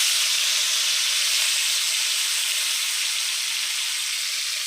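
Oil with turmeric and salt sizzles in a hot tawa pan, giving a loud, steady, close-up hiss that continues unbroken, with no talking.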